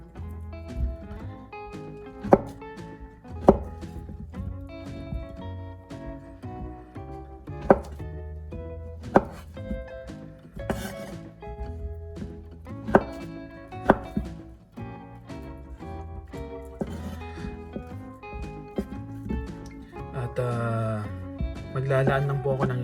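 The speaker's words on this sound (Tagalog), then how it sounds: "Maglalaan lang po ako ng isang saging na saba at hihiwain ito ng pahaba para sa ating presentation mamaya." A knife slices lengthwise through a peeled saba banana on a cutting board, giving a run of sharp, close chopping taps against a busy mix of background music.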